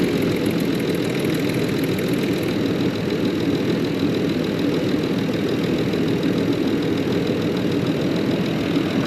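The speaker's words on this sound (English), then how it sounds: "Excellent, so we've got the car starting." A Land Rover Discovery 3 (LR3) engine running at a steady idle after a fuel pump module and fuel tank install, a loud, continuous close rumble with a faint ticking knock and no voices.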